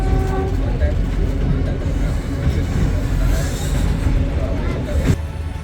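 A freight train rumbles past a passenger train halted on a siding in Cambodia, a loud, continuous low roar and rattle of wagons close by, with passengers murmuring under it.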